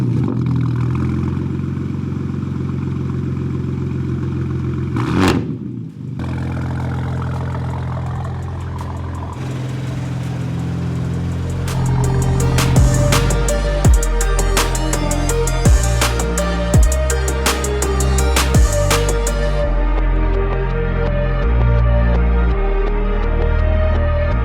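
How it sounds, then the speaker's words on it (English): A BMW M3 with an Evolution Raceworks cross pipe and AWE track exhaust cold-starts, firing up with a sharp catch near the start and then settling into a loud, steady, burbling idle with repeated clicks and clatter over a deep rumble. "Here's the first official cold start with our new Evolution Raceworks cross pipe and the AWE track"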